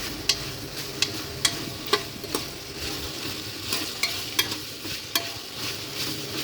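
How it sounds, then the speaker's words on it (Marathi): Ginger garlic paste sautéing with vegetables such as capsicum in a pan for veg biryani, a soft steady sizzle punctuated by regular sharp clinks of a spoon against the pan, close, with no talk. "त्यानंतर आले लसूणाची पेस्ट छान 1 मिनिट सॉटे करून घ्यायची"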